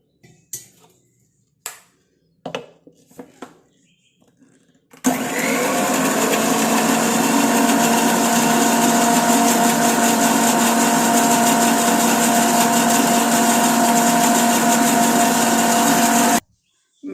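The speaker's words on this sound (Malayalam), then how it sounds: "പൊടിക്ക് വെള്ളം ഇങ്ങനെ തളിച്ച് അരച്ചെടുക്കും" A mixer grinder blending chopped hibiscus flowers with a splash of water. A few faint clicks come first, then a loud, steady motor whine runs for about eleven seconds before it cuts off abruptly.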